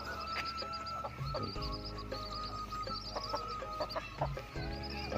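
Hens cluck repeatedly nearby over a steady background hum, with a few higher chirps from chicks mixed in.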